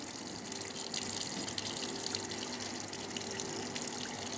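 Petroleum ether poured onto a cotton wool plug during a leaf carotenoid extraction, giving a steady, continuous liquid trickle and splash at close range with no talk.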